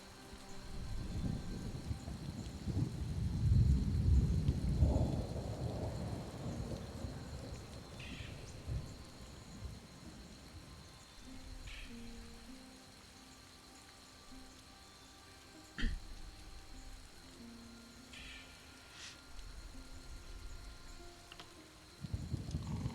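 A summoned thunderstorm rages in Elder Scrolls Online: deep rolling thunder swells early and fades, over a bed of steady rain, with a sudden sharp thunderclap later and rumbling returning at the end.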